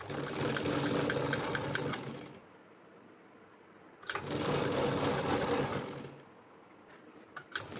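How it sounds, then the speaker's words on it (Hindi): A sewing machine stitches kurti panels together in two close, steady bursts of whirring, each a couple of seconds long with a short quiet pause between them. "तो मैं इनको आपस में पहले स्टिच कर लेती हूँ"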